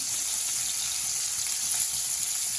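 Ching fish fries in a pan with a loud, continuous hiss and crackle of hot oil that stays steady throughout, with no talk over it.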